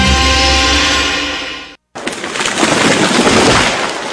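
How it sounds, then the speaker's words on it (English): A tree falls with a loud, broad crash and rumble, a brief cutoff, then a sustained noisy crackling roar of breaking branches. "That was the sound of a tree falling."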